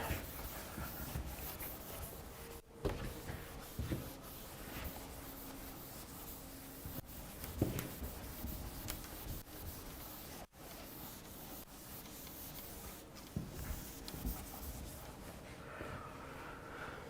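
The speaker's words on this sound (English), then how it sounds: "So I'll erase this part." An eraser rubs writing off a board in a lecture room, continuous scratchy rubbing strokes in uneven bursts, close and steady, with no talking.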